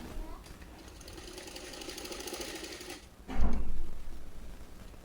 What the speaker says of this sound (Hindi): तो चलिए पहले दोनों साइड से हम इसकी किनारी सिल लेते हैं